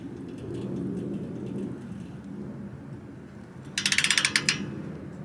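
A torque wrench ratchets in a quick run of about ten sharp clicks, tightening the oil drain plug on a Harley-Davidson Fat Boy motorcycle against a low steady background rumble.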